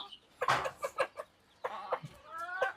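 Old-lineage black-and-white naked-neck country chickens cluck in a short run of close, sharp calls, a few quick bursts followed by a longer drawn-out note.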